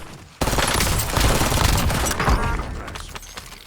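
A grenade in the shooter video game Warzone bursts with a sudden loud blast, then a rough, crackling roar that slowly fades over about three seconds, with no talk.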